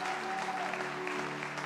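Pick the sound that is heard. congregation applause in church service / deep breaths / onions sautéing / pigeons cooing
congregation applause in church service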